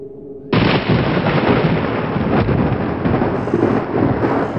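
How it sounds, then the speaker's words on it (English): Thunder of an approaching storm bursts in after a quiet start, a sustained loud broadband roar that rumbles steadily for several seconds, no voices. "Looks like a storm is coming."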